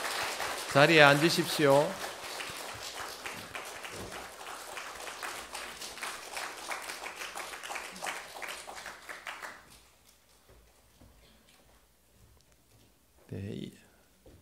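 A church congregation at a Palm Sunday service applauds briefly, a short burst of clapping after a spoken line. The clapping then thins into quiet room noise, and a voice speaks again near the end.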